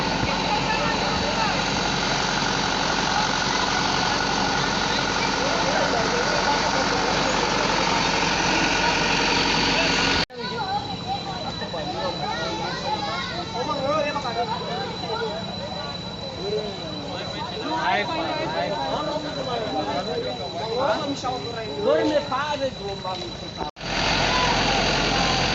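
A motorcycle engine idles in a flooded village in North Nias, a constant rumbling drone up close with people talking over it.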